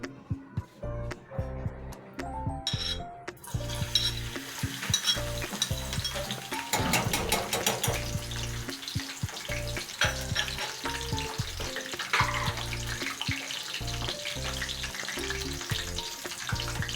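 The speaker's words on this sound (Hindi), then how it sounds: "मैंने इसमें बघार लहसुन लिया था और कड़ी पत्ता लिया था और ज़ीरा लिया था और साबित लाल मिर्चें" A tempering of garlic, curry leaves, cumin and whole red chillies sizzles steadily in hot oil for dal, with crackling pops and stirring clinks throughout, close and fairly quiet.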